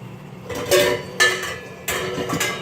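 A frying pan pushed and pulled on a stovetop while flipping an over easy egg, three short close scraping rattles of metal.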